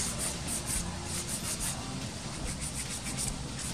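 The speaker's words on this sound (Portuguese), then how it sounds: "vou usar a lixa manual e vou lixar essa unha" Hand nail file sanding the surface of a gel nail, a steady close scratchy rubbing in quick rhythmic back-and-forth strokes, continuous and alone with no voices.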